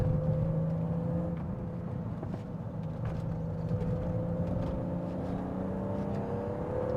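BMW Z3 M Coupe driving hard through tight corners, its engine droning steadily with rising and falling revs and a constant road and wind roar inside the cabin, no voices.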